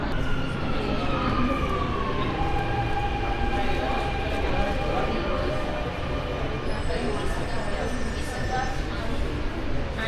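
A Dubai Metro train pulls into Al Ghubaiba station, a broad steady rumble with rising and falling whine tones running throughout, while people talk nearby.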